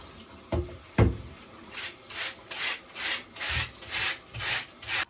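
A brush is scrubbed back and forth over a tumble dryer part to clear dust. After two sharp knocks, about eight rhythmic, evenly spaced bristly strokes follow, close and distinct, with no speech.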